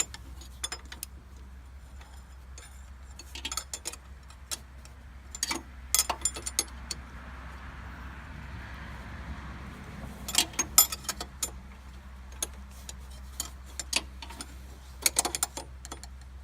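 Intermittent ratcheting clicks from a ratchet tightening bolts on a Can-Am Bombardier Rally 200 ATV, coming in short bursts separated by pauses against a quiet workshop hum, close to the microphone.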